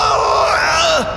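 In an audio drama, a man's anguished scream echoes through a tunnel, loud and drawn out, then sliding downward in pitch and fading into a reverberant tail.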